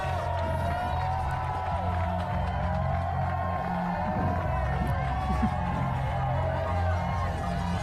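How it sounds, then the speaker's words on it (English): A big crowd cheering along the UTMB trail-running course near the Mont Blanc area, a loud continuous wash of whoops, shouts and clapping that stays steady throughout, with a voice talking over it. "I think the crowds are big here."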